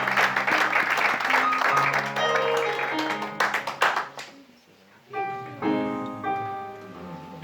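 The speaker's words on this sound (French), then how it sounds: "Est-ce qu'on peut acclamer?" Church congregation applauding the pastor at a Sunday service, a dense burst of clapping that tapers after about four seconds, with sustained organ or keyboard tones underneath throughout.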